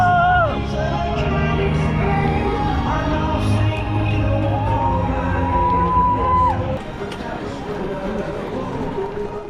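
Dense crowd murmur and voices at the start of the Berlin Marathon, a loud steady hubbub with shouts and a few whistle-like tones, thinning abruptly near the end.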